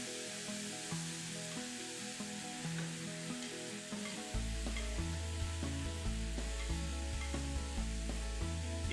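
Pineapple simmers in sugar syrup in a pan for a filling, giving a steady bubbling sizzle throughout, with a faint musical background underneath.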